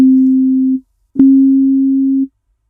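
Two pure sine tones played one after the other for ear training, each steady for about a second with a short gap between, the second pitched slightly higher.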